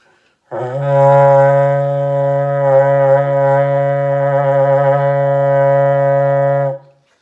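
A berrante, the long Brazilian cattle-herding horn, sounds one loud sustained low blast of about six seconds with a rich buzzing tone that wavers slightly in pitch before cutting off, heard alone without talk.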